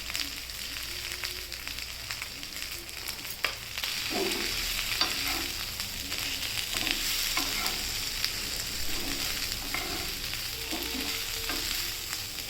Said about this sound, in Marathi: शेवग्याच्या पाल्याला चांगलं परतून घ्यायचं, त्याला चांगलं भाजून घ्यायचं